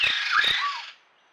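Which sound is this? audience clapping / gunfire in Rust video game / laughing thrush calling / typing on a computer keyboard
laughing thrush calling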